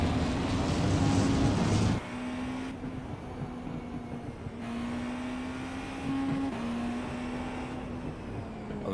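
A race car engine in the iRacing sim drones steadily, its pitch stepping down and holding as gears change through a corner, a close, even whine with no talk.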